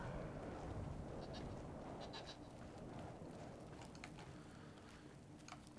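Goat bleats from the video game Brothers: A Tale of Two Sons, several short calls over a steady outdoor ambience of wind and rustling during mountain climbing gameplay.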